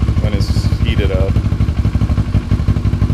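A motorcycle fitted with a Delkevic SS70 slip-on exhaust idles nearby with a steady, rhythmic low thumping pulse, while a person talks briefly at the start.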